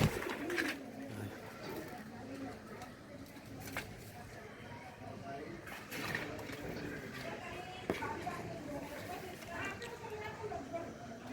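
Giribaz pigeons coo softly in the background of a busy loft, mostly hidden under ongoing conversation and other noise.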